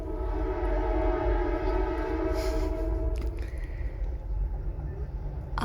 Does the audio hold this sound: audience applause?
no